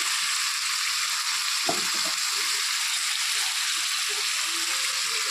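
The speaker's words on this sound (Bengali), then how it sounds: "হলুদ গুঁড়ো, ধনে গুঁড়ো, দিয়ে দিচ্ছি একটু সরষের তেল" Turmeric and coriander powder frying in mustard oil in a pan, a steady dense sizzling hiss that stays even throughout, with one brief knock partway through.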